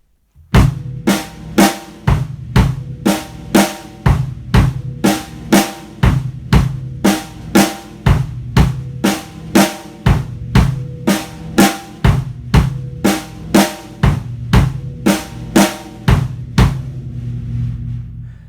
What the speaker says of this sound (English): playing the downbeats on beats 1 and 3 on the bass drum and on 2 and 4 on the snare drum